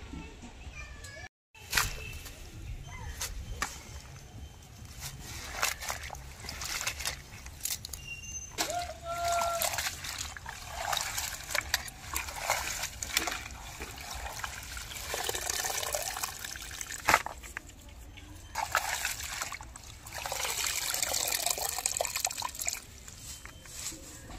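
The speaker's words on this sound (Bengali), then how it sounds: "আর শাকগুলি ভালো করে আমি ধুয়ে নেব।" Chopped taro leaves washed by hand in water, close splashing and trickling with sloshes and drips, and a voice talking over parts of it.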